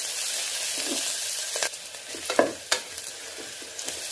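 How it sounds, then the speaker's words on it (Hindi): Onions fry in a pan with a close, steady sizzle, punctuated by a few scraping strokes of a spoon stirring them. "अब प्याज को हल्का ब्राउन होने देते हैं।"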